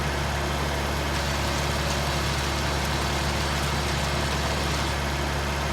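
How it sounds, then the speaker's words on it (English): A stump grinder attachment hums in Farming Simulator 19, a steady, constant engine-like drone that stays level and unbroken throughout, with no voices. "Turn your stump grinder on."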